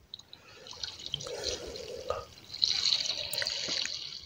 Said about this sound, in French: On va mettre de l'eau maintenant.